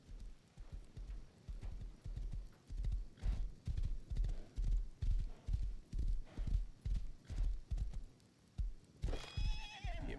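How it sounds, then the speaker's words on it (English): A horse in the video game Rust walks with a steady, even clip-clop of hooves, close and regular throughout, ending in a high neigh near the finish. "Let's hop on our horse and see if we can't find somewhere else to go."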